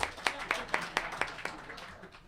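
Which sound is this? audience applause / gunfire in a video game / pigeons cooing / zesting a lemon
audience applause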